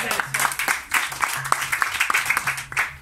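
Applause at a small Moroccan gathering as a student hands a driving-licence gift to his teacher, with many clap transients forming a steady patter mixed with voices and background chatter.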